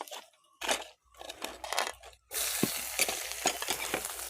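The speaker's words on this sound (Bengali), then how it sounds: "রসুনটা ভাজা হয়ে গেলে একে একে পেঁয়াজ কুচি দিয়ে দেব এর মধ্যে" Chopped onion dropped into hot oil with fried garlic paste in a pan, sizzling and crackling while a spatula stirs in several scraping strokes, close and moderately loud.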